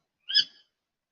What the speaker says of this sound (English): sorry about my bird.